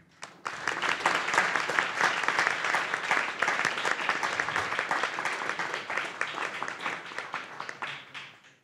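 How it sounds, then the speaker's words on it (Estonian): A conference audience gives a sustained round of applause for the speakers and session chairs, dense and even clapping throughout before tapering off at the end. "suur aplaus kõigile esinejatele, sessioonijuhtidele ja ka teile"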